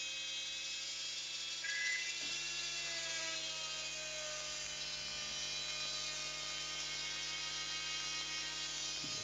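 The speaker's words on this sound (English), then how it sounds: "Now it's important that we drill straight." A steady high-pitched whine of a Dremel rotary tool drilling runs continuously, with a brief change in pitch as it bites into material.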